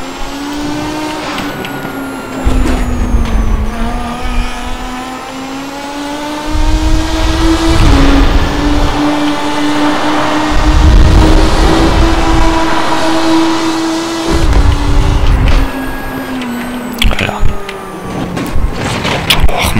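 A race car in a racing simulator on a French track, its engine revving and accelerating loudly through rising and falling gear pitches, with brief lifts between pulls, heard alone without talk.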